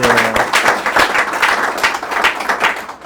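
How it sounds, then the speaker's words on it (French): Audience applause on a French-language broadcast program, a dense wash of clapping with a few sharper bursts, moderately loud and steady over about three seconds, with a brief trace of a voice at the very start. "est-ce qu'on peut l'applaudir enfin?"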